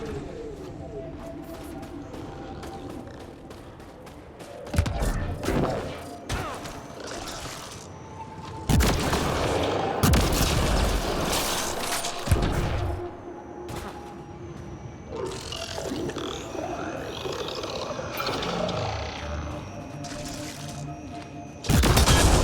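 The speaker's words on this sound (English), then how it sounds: "Shooting the device will destroy it." Gunfire destroying a Ket device at a Remnant site in the game Mass Effect: Andromeda: loud bursts of shots and booming impacts come in bunches over a steady mechanical and watery background.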